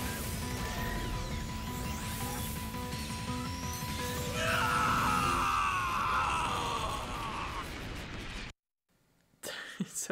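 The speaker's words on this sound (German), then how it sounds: "hört sich immer so brutal an" Game characters in Master Detective Archives: Rain Code scream as they are blasted away, a loud, strained outcry over dense game sound that cuts to near silence before a brief final burst.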